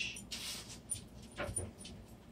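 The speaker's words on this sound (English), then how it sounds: "There's a dog barking outside" A dog barks outside, heard indoors as a few short, muffled yelps and whimpers at a distance, fairly faint against a quiet room.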